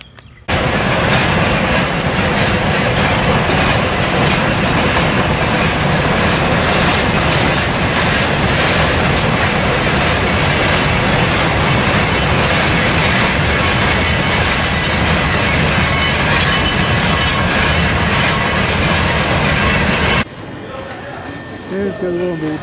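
Loud, continuous roar of a train rolling along the rails with rhythmic clatter, running for about twenty seconds before cutting off abruptly.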